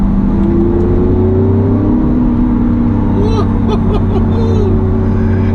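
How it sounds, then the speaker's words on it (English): A Lamborghini Aventador engine roars loud and close, holding a steady drone that rises in pitch as the throttle is hit, with a brief higher whine partway through. "Every time I hit the throttle"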